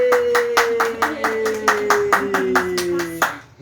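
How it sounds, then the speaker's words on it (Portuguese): An audience claps in a burst of rhythmic applause during a Purim reading of the Book of Esther, roughly a dozen sharp claps with a whistle-like tone gliding underneath. "Quem está de mão livre, bate palma."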